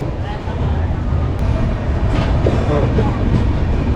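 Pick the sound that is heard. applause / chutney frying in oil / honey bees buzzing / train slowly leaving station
train slowly leaving station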